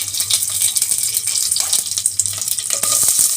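Mustard seeds, curry leaves and green chillies frying in one or two spoonfuls of hot oil in a pan, a loud close sizzle with crackling pops and stirring.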